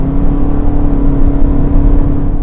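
A 2024 Kia Sportage's sluggish four-cylinder engine strains at full throttle up a hill with the air conditioning on, a steady loud drone and whir from inside the cabin with no talking.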